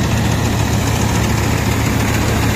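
A brand-new Swaraj 855 tractor engine runs steadily up close, a continuous low, throbbing idle with a faint mechanical knock and no voices.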